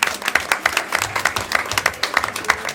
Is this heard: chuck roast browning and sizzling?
no